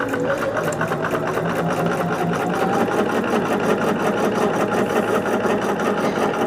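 A sewing machine stitches flying geese quilt blocks, running at a steady, continuous rapid clatter throughout at close range with no pauses.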